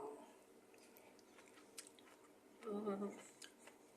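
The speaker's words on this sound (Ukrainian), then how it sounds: "А чуєте, як хрумтить?" Soft close-up chewing of sauerkraut with a short burst of crunchy bites near the end, quiet and intimate, with faint voice in the background.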